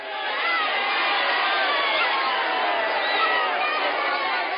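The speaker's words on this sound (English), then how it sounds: "In London, the crowds gather." A large crowd gathered in London's Piccadilly Circus and Trafalgar Square on a 1950s election night makes a dense, steady roar of many voices, loud and continuous throughout, recorded with a narrow, old-fashioned tone.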